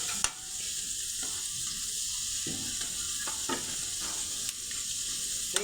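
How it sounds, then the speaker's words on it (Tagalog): French fries frying in hot oil, a steady close sizzle and crackle with occasional sharper pops and stirring clicks, no talk. "last na po itong ating pinipiritong french fries"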